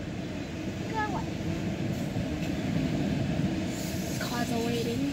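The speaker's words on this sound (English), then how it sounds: "This train go by." A train rumbles steadily past a level crossing where cars wait, giving a continuous loud low roar with faint squeals, while voices talk over it.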